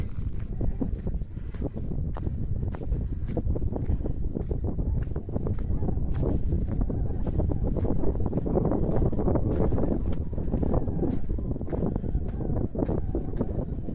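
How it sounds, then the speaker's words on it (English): Strong, constant wind buffets and roars across the microphone on a hilltop between Mam Tor and Lose Hill, gusting unevenly for the whole stretch with no voices. "A bit more windy up here."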